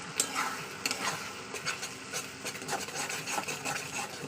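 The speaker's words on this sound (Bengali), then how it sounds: "দিয়ে মশলাটাকে ভালো করে কষিয়ে নেব" Egg curry masala with turmeric and salt is stirred and fried in a pan, heard as repeated scraping and rubbing strokes of a spatula over a soft sizzle, with no voice.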